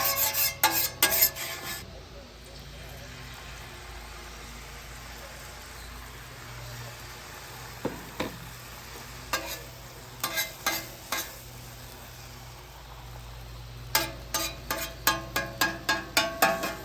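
Food sizzles steadily on an oiled griddle at a camping breakfast, a continuous crackling hiss broken by sharp scraping strokes of a spatula near the start and in quick bursts toward the end.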